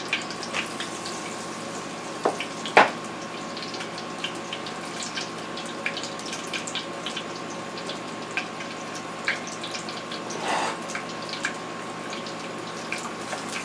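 Broccoli florets coated in Bisquick batter frying in hot oil, a steady soft sizzle with occasional pops and clinks, no talking.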